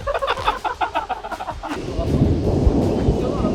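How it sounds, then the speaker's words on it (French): Thunder from a large storm ahead of a golf course rumbles low and loud, building into a sustained roll, while people talk over it near the start. "il y a un énorme orage qui est devant nous"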